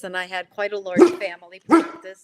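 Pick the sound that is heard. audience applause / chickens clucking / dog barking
dog barking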